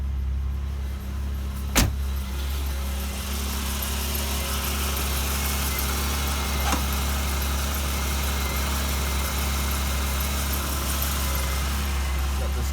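Steady, even drone of an Olds Cutlass or Buick Electra engine idling just after a cold start on a cold day, the alternator keeping it running; one brief sharp click near the start, otherwise a constant low rumble with faint hiss.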